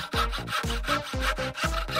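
Wooden boards being sawn in an animated cartoon, with five rhythmic back-and-forth strokes in quick succession, loud and close, and no voices over them.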